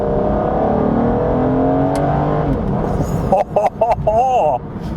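Aston Martin DB9 V12 accelerating hard in a low gear, a loud engine roar climbing in pitch, then rising and falling revs near the end, all close.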